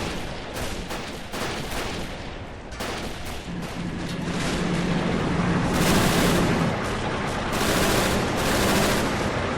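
MG42 machine guns firing in the Men of War battle video game, dense bursts of gunfire and explosions building into a loud, continuous fusillade.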